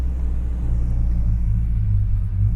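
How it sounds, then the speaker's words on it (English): A deep, steady small-block Chevrolet V8 rumbles at idle close by, low and throbbing with no change in pace throughout. "It's one of the greatest engines ever. The rumble is so good."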